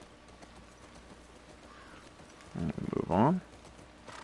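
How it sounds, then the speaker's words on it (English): Horses gallop and leap over concrete barriers and broken roadways in The Last of Us Part II, a few quick hoof clops rising briefly in the foreground while a voice speaks over them. "they just have these horses leaping over concrete barriers and broken roadways"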